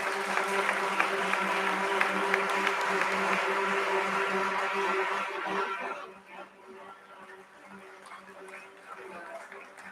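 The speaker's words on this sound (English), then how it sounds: "Big round of applause, everyone" Applause at an IPO bell ringing ceremony carries on steadily, then fades and thins out after about six seconds, leaving quieter background noise.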